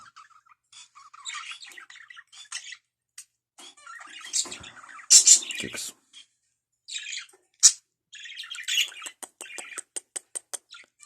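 Small pet budgerigars, about two weeks old, chirp and squawk in scattered bursts, close by, ending in a quick run of sharp repeated chirps.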